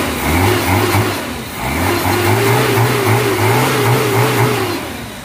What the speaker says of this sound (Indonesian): Kita gas pemirsa mesinnya.